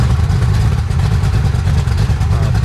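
A 1966 Ford Mustang engine idling through dual exhaust that dumps down past the rear axle, giving a loud, close, steady low rumble with a fast pulsing throb.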